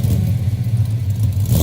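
A Pontiac six-cylinder engine in a 1970s car revs with a smooth, balanced hum, a steady mid-pitched drone with slight rhythmic pulsing, heard up close and fairly loud with no talking.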